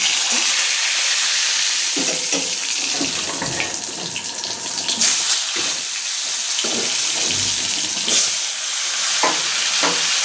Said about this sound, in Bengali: আর এদিকে আমি পটল ভাজি বসাবো, সেজন্য কড়াইয়ে তেল দিয়ে দিয়েছি, তেল গরম হয়ে গেছে